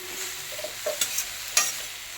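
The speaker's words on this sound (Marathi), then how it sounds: "हे बघा, आणि मग अशी परतायची." Boiled cowpea vegetable being stir-fried in a pan, a steady soft sizzle with a few sharp spatula scrapes and taps against the metal, close by with no talking.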